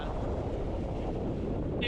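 Strong wind roars steadily across the microphone at Torpesand Strand sea beach, a dense, continuous buffeting rumble with surf faintly blended underneath, loud and unbroken throughout.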